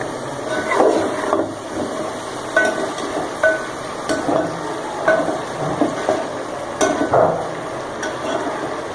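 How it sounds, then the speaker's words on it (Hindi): Chicken biryani masala being stirred and cooked in a pot, with repeated scraping and stirring strokes over a steady low sizzle, close and moderately loud, with no talking. "तीन से 4 मिनट इसको मिक्स करेंगे, इसके साथ पकाएंगे।"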